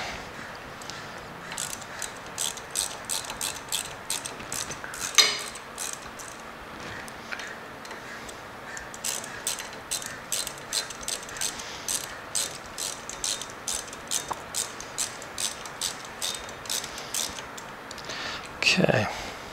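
A ratchet wrench tightens bolts on the brake arm of a 2022 Road Glide ST motorcycle, giving repeated bursts of rapid, close clicking with short pauses between runs of turns.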